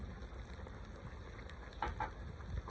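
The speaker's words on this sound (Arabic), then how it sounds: "ابدي الساعة احمس" Onions frying with freshly ground spices including cardamom, cinnamon and coriander in a pan, a steady soft sizzle with faint stirring clicks, fairly quiet and continuous with no talk.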